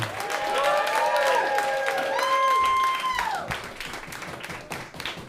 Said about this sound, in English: put your hands together, start clapping right now for your next comedian